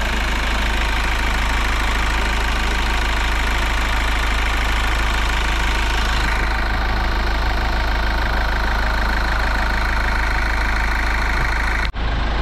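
A Kia Sorento engine, recently fixed of a ticking noise, idles steadily and close up with an even hum and fine rhythmic clatter that continues unbroken to the end.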